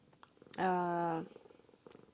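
A cat on a rural countryside farmstead gives a single sustained, steady tonal call lasting just over half a second, close and fairly loud, with faint murmuring sounds before and after.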